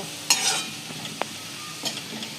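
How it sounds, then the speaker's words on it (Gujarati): Onion frying in a pan for a green onion sabzi, a steady sizzle with a couple of sharp stirring scrapes and clinks near the start and end, close and moderately loud, no talking. "જો ડુંગળી શેકાય છે"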